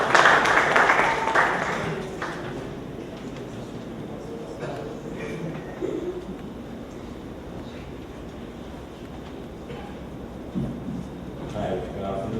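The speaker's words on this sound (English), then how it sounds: "Please give a round of applause, please." An audience at a tech talk applauds in a brief burst of clapping that fades after about two seconds, leaving quiet room noise with occasional faint rustles.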